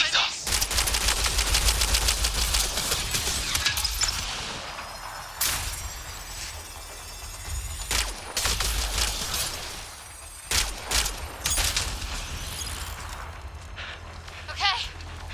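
Gunfire in Mass Effect: Andromeda rattles in dense rapid bursts, close and loud, then breaks into scattered sharp shots with short pauses, over a game soundscape.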